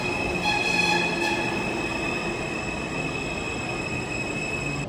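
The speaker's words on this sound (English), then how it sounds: "So then, guys, we are taking the subway" A New York City subway train rumbles steadily along the tracks, with a constant low roar and faint high-pitched whine throughout, no voices.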